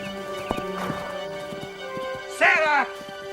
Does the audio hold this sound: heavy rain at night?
no